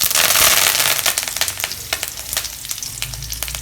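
Curry leaves hit hot oil in a kadai already holding mustard seeds and urad dal, giving a loud, close burst of sizzling that settles into steady frying with sharp popping crackles.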